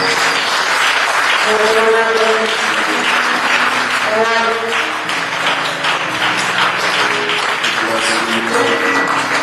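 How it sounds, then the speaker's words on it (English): A church congregation claps hands together in a dense, sustained wash of applause, with voices singing or calling out over the clapping throughout. "And we clap hands for Jesus."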